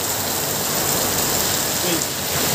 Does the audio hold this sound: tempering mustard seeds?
no